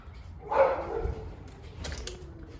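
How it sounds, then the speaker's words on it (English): A dog gives a single bark followed by faint, thinner yelps in an outdoor setting near a parked Dodge Charger Scat Pack. The sounds are moderately loud and short, over a low background hum. "my dog's going crazy"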